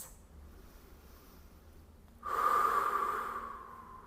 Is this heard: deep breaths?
yes